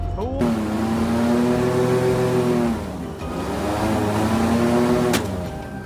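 A loud boat engine roars steadily, its pitch rising and falling as it revs, with a brief dip in the middle before surging again, in a swamp.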